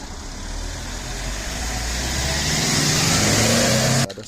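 A taxi drives along a road in Belize, its engine a steady mid-range hum that gradually builds and swells as it accelerates, close and continuous until it cuts off abruptly near the end.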